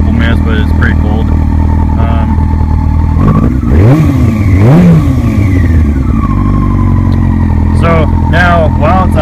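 A cold Yamaha R6 sport bike engine fires up loud and close, settling into a rough idle with a couple of sharp throttle blips and clattery mechanical noise, while someone talks over it.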